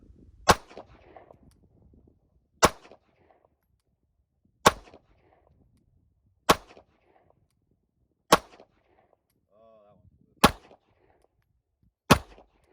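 Handgun fired at about three to four yards during defensive shooting training, seven loud sharp close shots spaced roughly two seconds apart, with quiet gaps between them.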